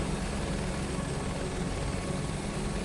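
A helicopter flying in Microsoft Flight Simulator 2024, a dense continuous rotor and turbine roar that holds steady and loud throughout, with no talk.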